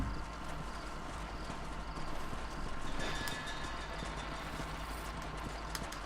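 Horse hooves clip-clop steadily in the Western video game Red Dead Redemption, a continuous rhythmic beat over a dense, noisy in-game background with no voices.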